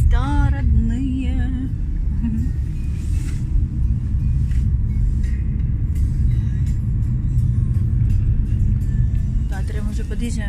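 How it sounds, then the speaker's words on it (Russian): A taxi drives through Moscow with a low, constant engine and road rumble inside the car, while people talk over it. "Все, мы в таксишке, едем в торговый центр."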